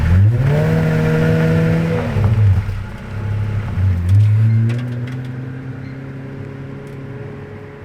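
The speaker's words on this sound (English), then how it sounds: "The Zonda LH!" A Pagani Zonda 760 LH supercar revs nearby with a deep, strongly tonal engine note, climbing, dropping away and surging again, then fading into the distance.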